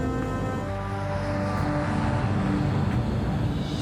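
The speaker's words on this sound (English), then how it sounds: "Swissair Flight 111 lifts off the runway and makes her way northeast towards the open Atlantic" A Swissair airliner roars down the runway on takeoff, its jet engines producing a loud, steady, broadband rush that swells slightly over a few seconds.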